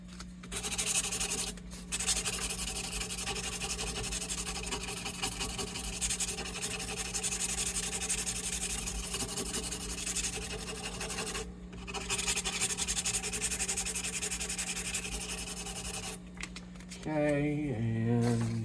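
A guitar headstock is hand sanded with 400 grit sandpaper in a steady, close scratchy rubbing that runs almost without a break, pausing briefly twice, over a constant low electrical hum.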